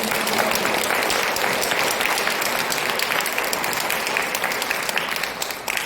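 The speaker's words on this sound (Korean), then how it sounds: "하나님께 박수 한번" Church congregation applauding to God during a Sunday service, many hands clapping together in a loud, sustained, even roar that fills the whole stretch and tapers slightly at the end, with no talk over it.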